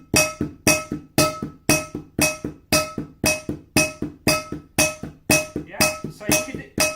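A pan and a box tapped lightly by hand like a drum kit, about eleven crisp, evenly spaced hits with a faint metallic ring from the pan, close and alone.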